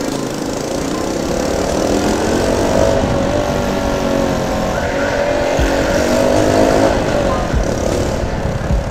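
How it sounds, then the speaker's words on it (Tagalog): Kawasaki motorcycle engine running loud inside a basement, a steady throaty drone whose pitch rises and falls gently with light throttle over nine seconds, with no talking. "Napatunog natin yung sasakyan, ha?"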